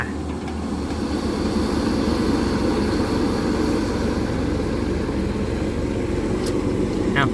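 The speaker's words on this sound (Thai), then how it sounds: "สำหรับรถขุดโคโบต้าขนาด 8 ตัน มีคนขับก็เร่งเครื่องอัดเต็มที่แล้วก็ตักแบบว่าโอ้ จวดๆเลยนะครับ" A Kubota 8-ton excavator digging with its engine pushed hard, giving a steady, loud, low diesel drone that holds without a break through the whole clip.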